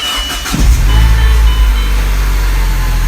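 A Mini Cooper S engine starts with a short cranking burst and then settles into a loud, steady idle, heard close with no talk.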